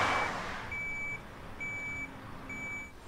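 A lorry reverses beneath a trailer, its reversing alarm giving three evenly spaced beeps over a low idling engine, fairly close and without talk.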